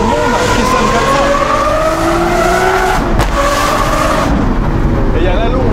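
A Lamborghini Aventador SVJ with a Gintani-tuned V12 screams at high revs, close and loud, its pitch climbing steadily with a brief break partway through before the wail resumes.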